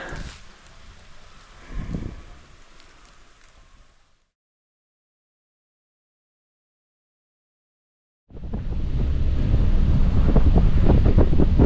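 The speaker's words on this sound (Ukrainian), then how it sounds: "але такий сильний піднявся вітер" Strong wind blows through a spring forest while mushrooms are being picked, roaring and buffeting the microphone in loud gusts. The sound cuts to near silence midway, then returns as a heavier, steadier rush.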